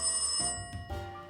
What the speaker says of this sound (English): answer the goddamn phone!